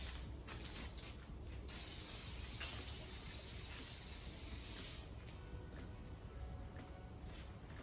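Pressure washer spraying water over a bare LS engine block outdoors in November, a steady broadband hiss that carries on without a break and eases slightly partway through, with faint mechanical rattles mixed in.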